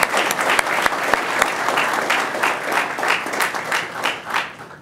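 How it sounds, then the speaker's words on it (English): An audience at the Hampton Roads Fire Academy Class 34 graduation ceremony breaks into loud, sustained applause, many hands clapping at once in an indoor hall, with no talk over it. "everybody give her a round of applause, please."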